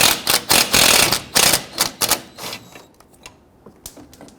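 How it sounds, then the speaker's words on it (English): A ratchet loosens and removes a nut on the rear lower control arm of a 2006-2012 Toyota RAV4: close, rapid bursts of sharp clicking that grow sparser and quieter toward the end. "I'm going to loosen and remove that nut."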